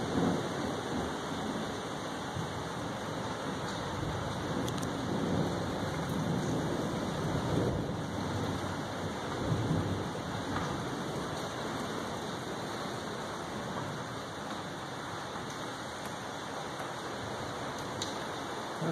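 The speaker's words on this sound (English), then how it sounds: "That's a good old Florida lightning storm there." A Florida thunderstorm pours steady, dense rain with a constant hiss and low rumbling underneath, continuous and fairly distant for nearly twenty seconds with no talking.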